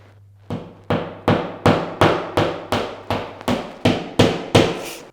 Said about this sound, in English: Are you worried about my hammering?